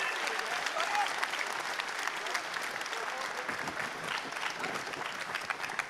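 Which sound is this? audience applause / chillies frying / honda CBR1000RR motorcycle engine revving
audience applause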